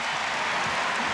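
Basketball crowd at a 1994 UConn men's game against Boston College, a brief burst of broadband applause filling the arena, dense and steady.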